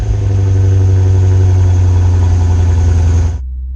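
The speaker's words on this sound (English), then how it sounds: "under the bonnet is a lovely long-standing Lexus V8 5-litre engine" The 5-litre V8 of a Lexus RC-F 10th Anniversary edition runs loud and close with a deep, steady rumbling drone, then cuts off abruptly near the end.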